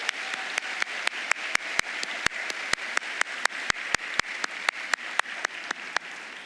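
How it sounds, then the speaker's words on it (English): Audience applause at an FCPS honors evening: steady crisp clapping from a crowd, with sharp individual claps punctuating a continuous wash of hands, moderately loud and with no talk over it. "Let's give them all a great round of applause"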